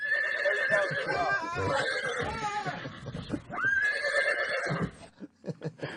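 A horse whinnies loudly and up close, a long shrill neigh followed by a second rising whinny, then fades into snorts and brief rustling.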